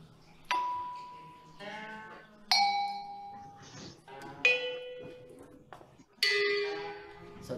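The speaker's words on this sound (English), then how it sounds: "this is music demonstrated by hitting different parts of the bells, different sounds will come out." Bells at a Chinese cultural center are struck on different parts to play a sequence of ringing tones, four clear strikes each with a long, decaying metallic resonance and distinct pitch, spaced about two seconds apart.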